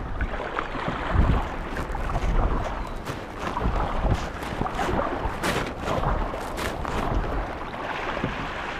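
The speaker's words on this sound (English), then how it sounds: "So there's no getting out of this wind." Strong wind gusting across an open marsh-flat lake during a first outing in an Ascend 12T kayak, a loud, continuous broadband roar with surging gusts and choppy water, no talk.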